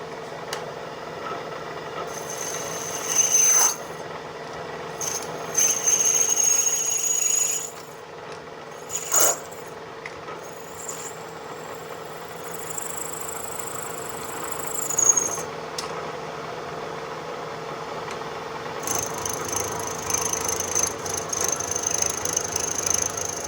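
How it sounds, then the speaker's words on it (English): A milling bit grinds a threaded area flush on a metal pneumatic air brake fitting with a steady mechanical drone, punctuated by occasional high metallic squeals and scraping bursts. "we're gonna start with a milling bit, and we're gonna lob this threaded area off flush with the fitting"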